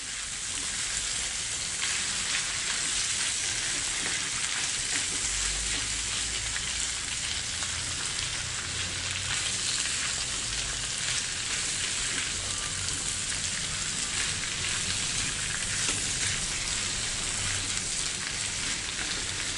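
Feijão tropeiro fries in a large pan while being stirred, producing a dense, continuous crackling sizzle, close and even throughout with faint scraping movements underneath.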